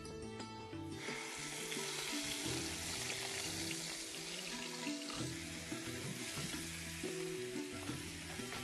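Masala paste of onion and tomato, ground without water, fries in a pan of hot ghee for a peas pulao, giving a loud, continuous sizzle and crackle that starts abruptly and holds steady throughout.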